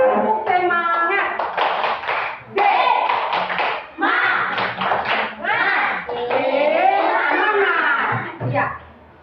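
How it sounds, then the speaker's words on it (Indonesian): Children at school clap a rhythmic 'tepuk semangat' chant, with bursts of patterned hand claps mixed with their chanting voices, loud and close, in several phrases. "Semua tepuk semangat dulu, kayaknya semua bisa. Tepuk semangat."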